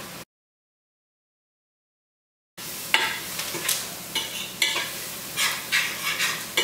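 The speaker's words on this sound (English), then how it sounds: "I put my peppers and my onions in here, and I'm going to let that saute while I cut up everything else" Peppers and onions sauté in a pan, a sizzle with repeated stirring scrapes in an uneven rhythm, beginning after a stretch of total silence.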